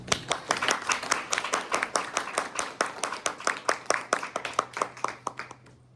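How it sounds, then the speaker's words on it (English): A small audience at an artist talk gives a round of applause made of distinct, sharp individual claps in a quick, fairly even stream that thins out toward the end. "So another big round of applause"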